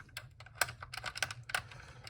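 Rapid clicky keystrokes from a Hall Effect computer keyboard with a missing spring, a steady run of close, crisp key presses with a few sharper louder hits, no talking.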